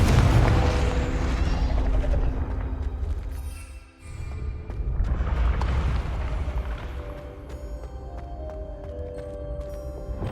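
Rumbling fire-spell explosions from Confringo in Hogwarts Legacy, a dense roaring blast filling the first few seconds, a brief dip, then another sustained booming roar with lingering crackle and ringing tones.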